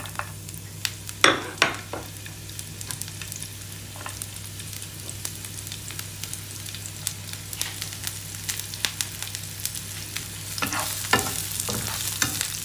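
Onion, garlic and chili are sautéed in a hot pan, a close crackling sizzle broken by repeated scraping stirs and clacks of a spatula, louder toward the end, with a faint steady hum beneath and no talking.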